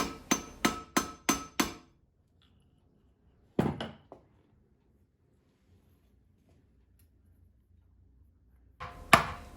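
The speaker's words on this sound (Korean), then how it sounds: "적동봉 파이짜리를 이용했고 끝부분을 리베팅을 할 거기 때문에 단조 망치를 이용해서 늘려줬어요." A forging hammer strikes a red copper rod, drawing it out for a ladle handle: five quick, ringing metallic blows, then a lone hit after a pause, and one more near the end.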